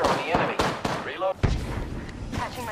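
Gunfire in Apex Legends: several sharp close shots and bursts with ringing tails, mixed with game effects and a voice talking over the action.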